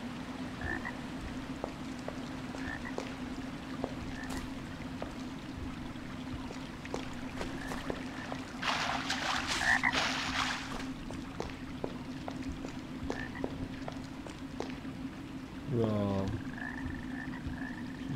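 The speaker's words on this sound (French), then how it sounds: "Alors, on entend le crapaud," A toad in the Arx Fatalis game world croaks in short, regularly spaced calls over a constant low hum. Water sloshes and splashes briefly in the middle, and a deeper gurgling croak comes near the end.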